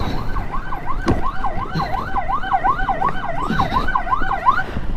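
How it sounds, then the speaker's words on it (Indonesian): An ambulance siren wails in heavy traffic on an Indonesian road, a loud, close rising-and-falling tone cycling steadily with engine and street noise beneath it. "Ada ambulan di belakang, maju."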